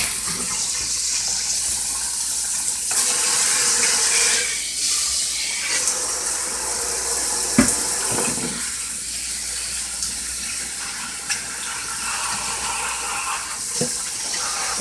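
Cabbage rinsed under a running kitchen tap, a loud, continuous rush of water whose tone shifts as the leaves move through the stream, with occasional soft knocks.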